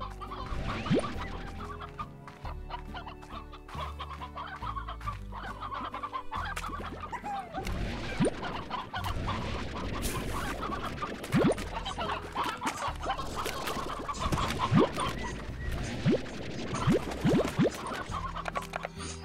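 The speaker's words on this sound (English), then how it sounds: "Just put these hens." Stony hens in the video game Slime Rancher clucking repeatedly, several overlapping bird calls with an occasional crow-like note, fairly close and continuous over a game soundtrack, no talking.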